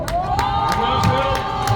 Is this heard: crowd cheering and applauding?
yes